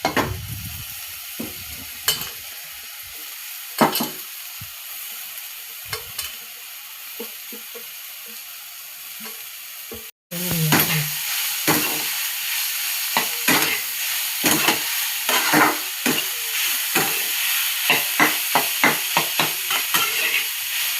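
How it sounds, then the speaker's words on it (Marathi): Chopped raw jackfruit is added to onion frying in a pan. Quiet scattered stirring taps give way after a short gap to a louder, dense sizzle with rapid scraping strokes close by. "आता ह्यात आपण तुकडे केलेलं फणसाचं हे घालूया."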